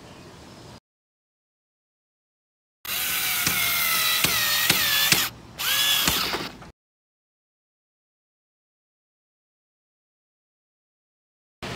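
A power tool drives screws into the wheels of a raised bed stand. It whirs in two bursts a few seconds apart, close and fairly loud, with near silence before and after.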